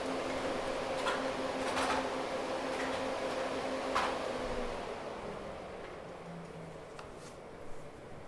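Server fans in a Supermicro SC846 chassis, running at 40% speed, give off a steady, moderate whirring hum with a faint tonal whine that settles slightly lower partway through, with no speech.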